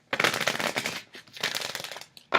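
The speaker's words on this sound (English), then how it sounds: "Shuffling this deck, even though it's a thicker cardstock and a little bigger, it's not too big to handle" A large tarot deck of thick, stiff, shiny cardstock is shuffled in two quick riffling bursts, each a rapid flutter of cards, with a short pause between and a sharp snap of cards at the end.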